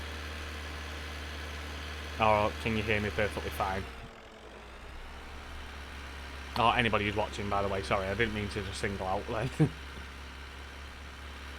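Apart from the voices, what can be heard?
tractor engine in video game Farming Simulator 19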